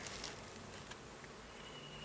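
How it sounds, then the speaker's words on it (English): Small bees piling up on one side of an open hive make a very faint, steady buzzing hum that stays low and continuous throughout, with no talking. "There's a bunch of bees piling up on this side."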